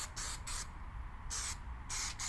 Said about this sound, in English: Let me just spray some on here.